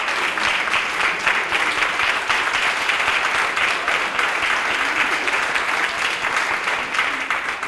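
Sustained applause at a school district graduation ceremony as an audience honors a graduate's parents, an even, dense roar of many hands clapping throughout, loud and unbroken.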